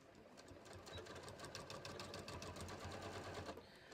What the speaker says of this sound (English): I'm just going to sew this using a 1/2 inch seam allowance here.